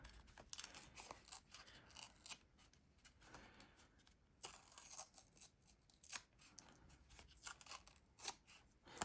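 Paper edges being ripped by hand while making cards with fern and flora dies, heard as a series of short, dry tearing rips spaced irregularly, close and crisp, with quiet gaps between and no talking.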